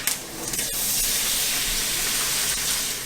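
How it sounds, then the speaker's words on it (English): Milk is whisked into a hot, nutty-brown roux for sausage gravy. A loud burst of steamy hiss rises and holds evenly for a few seconds. "I'm going to back off on the heat and slowly start whisking in my milk."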